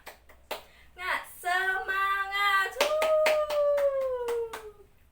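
Several sharp hand claps ring out in a quick, even rhythm while a teacher chants along in a drawn-out tone, leading children in an Indonesian classroom clapping chant.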